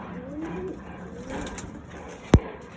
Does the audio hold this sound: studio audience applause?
no